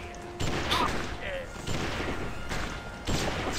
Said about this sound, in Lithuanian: koks gražus šūvis